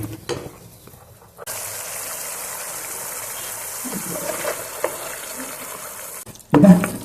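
Tomato masala paste fries and sizzles in oil in a pan, a steady close hiss running through most of the clip, with a brief stir and clatter at the start and a louder knock at the end.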